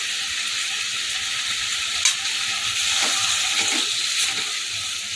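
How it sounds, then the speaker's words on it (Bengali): A ladle of ghee sizzles over a moong dal and bottle gourd curry in the pan, making a continuous bright hiss up close with a few soft stirring clicks and no talking. "হাত চামচ ঘি দিয়ে দিলাম"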